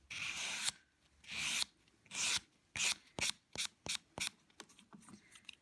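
A nail file rasps against an acrylic nail surface in short downward strokes. Several longer scrapes give way to a quicker series of brief, close, crisp strokes.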